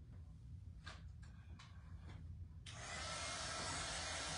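A dryer switches on abruptly partway through to dry a craft stuffie, a steady loud broadband whoosh that follows a few faint taps and handling sounds in a quiet room.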